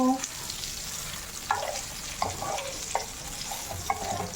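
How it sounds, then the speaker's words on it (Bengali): Fish frying in a pan crackles with a continuous close sizzle, while a utensil scrapes and taps against the pan in repeated short strokes every second or so. "মাছগুলো দেখো ভাজা হয়ে গেছে।"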